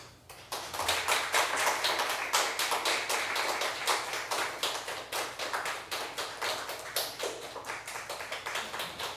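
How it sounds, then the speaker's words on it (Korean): A church congregation at a Friday prayer service claps to welcome a preacher, a sharp, rhythmic round of many hands clapping in unison that begins abruptly and holds a steady beat. "나오셔서 귀한 말씀 선포하실 때 박수로 맞이하시겠습니다"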